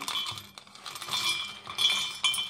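Cashew nuts clatter into a mixer jar with a few bright, hard clinks and scattered ticks against the container, close and moderately loud, with no talking.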